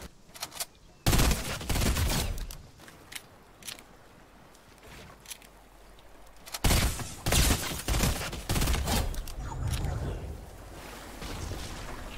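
Rapid bursts of pistol gunfire from a cracked pistol in Fortnite Chapter 2, loud close shots in two clustered volleys separated by a quieter stretch, with someone shouting excitedly in the background.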